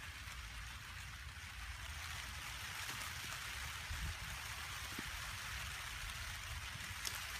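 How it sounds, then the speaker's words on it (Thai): Steady rain falls on a vegetable garden of water spinach in Japan, a constant even hiss of drops with a few faint taps, unbroken and without speech. "ตอนนี้ฝนกำลังตกเลยค่ะ"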